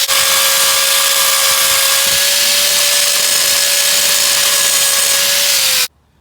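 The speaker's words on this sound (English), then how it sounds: "I'm just using this little old Makita angle grinder." A small Makita angle grinder cuts through welds on a Midget car, a loud, steady high-pitched whine with gritty hiss running continuously for about six seconds before stopping abruptly.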